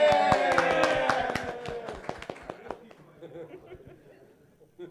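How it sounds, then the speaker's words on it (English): A workshop audience gives a brief round of applause, dense clapping with some laughter that thins out and fades to scattered claps. "Give him a round of applause"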